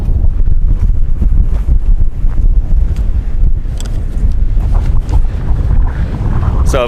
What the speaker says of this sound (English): now it's pretty windy